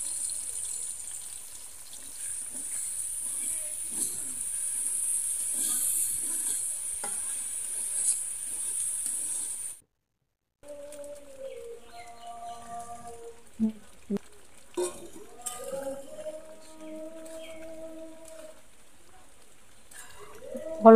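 Rice roasts in a pan on a village clay stove: a steady bright sizzle at first, then a short gap, then scraping stir strokes with a few knocks and some low tonal background sounds.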